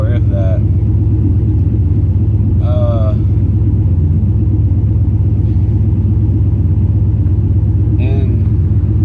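An old OBS Ford truck with a 350 V8 idles with a deep, steady low rumble close by, while someone speaks intermittently over it.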